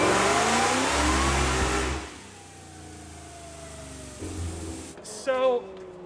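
A 900-horsepower car engine roars loudly at high revs on a dyno pull in fifth gear, then cuts off and winds down; a voice speaks briefly near the end.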